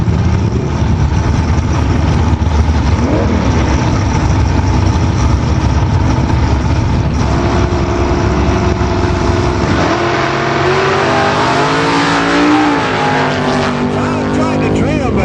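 Chevy Camaro and Chevy Nova drag race engines roar loud and continuous, the pitch climbing and shifting as the cars pull away, dominating the whole stretch.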